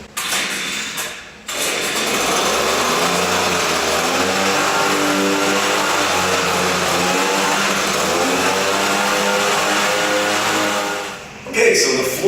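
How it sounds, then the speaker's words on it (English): A blower starts up and runs steadily, blasting dirt and flakes off an epoxy-coated floor with a loud, continuous whooshing drone that fades at the end as the machine shuts off. "So we're just going to go ahead and start up the blower and then give the floor a very quick blow."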